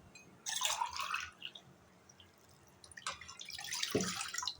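Water poured into a kadhai (wok) in a home kitchen, heard as two separate splashy pours with trickling and dripping, moderately quiet, no talk.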